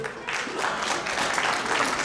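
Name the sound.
audience applause for a gold sponsor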